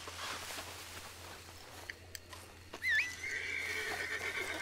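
A horse ridden in the video game Red Dead Online snorts and then lets out a clear, rising whinny over soft hoof clip-clops and quiet ambient background, with no voices.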